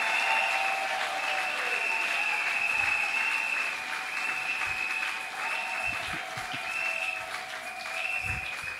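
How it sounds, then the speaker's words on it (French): Sustained applause from the audience for graduates at an academic degree ceremony, a dense steady clapping that rises and falls slightly over time, heard at a moderate distance. "Acclamez pour les lauréats,"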